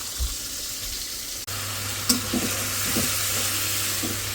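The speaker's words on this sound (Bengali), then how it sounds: "একটু করে ভেজেই মাছটা রান্না করবো" Fish sizzles steadily in hot oil in a pan, with occasional stirring clatter over a low continuous hum, close and fairly loud throughout.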